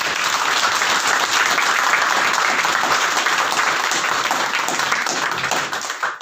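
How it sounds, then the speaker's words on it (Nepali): A Christmas church congregation breaks into sustained, loud applause, a thick continuous wash of clapping that holds steady before tapering slightly at the end. "हामी एकचोटि फेरि पनि हाम्रो ठुलो ताली दिँदै हामी उहाँलाई धन्यवाद गराउनुपर्छ"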